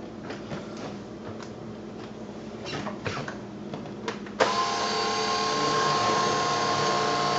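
A Bissell Perfect Sweep Turbo cordless rechargeable sweeper picks up crumbs on the floor, a low rolling whir with scattered ticks and rattles of debris, then a louder steady motor drone kicks in and holds.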